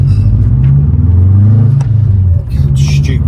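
A Subaru Impreza with a freshly fitted clutch drives along, its engine revving loudly with a steady low rumble that rises and falls, close and continuous throughout.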